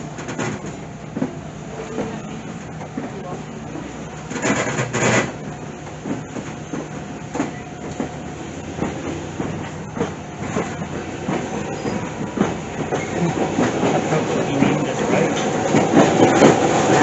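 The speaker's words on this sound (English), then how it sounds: "Next, our train will proceed through the appropriately named rock cut." The Lehigh Gorge scenic train near Jim Thorpe rolls along its rails with a steady clickety-clack of wheels over joints, heard from aboard, the rumble growing louder toward the end.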